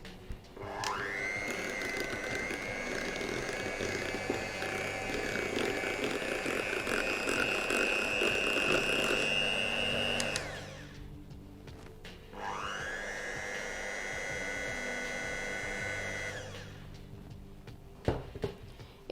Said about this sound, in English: I'm going to blend this with my hand blender to ensure it's mixed well.